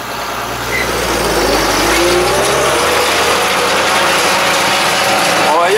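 A tractor sows a field at speed in third reduced gear near 1700 rpm, its engine droning steadily with mechanical rattling and clanking up close; the sound swells slightly after the first second.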